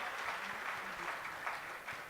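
Audience applause welcoming a guest at a Hindi spiritual gathering with a swami, steady crowd clapping throughout, fairly quiet and diffuse as if heard from a distance.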